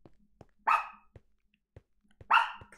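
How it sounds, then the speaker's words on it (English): A dog named Chloe gives two sharp barks about 1.7 seconds apart, close and fairly loud, with small thumps and clicks around them. "Chloe girl, no barking, sweetie."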